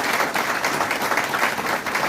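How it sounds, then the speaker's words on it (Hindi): At an SC/ST Federation gathering with Delhi minister Raj Kumar Anand, the audience breaks into loud, dense, continuous applause that holds steady throughout. "जोरदार तालियां इस बात के"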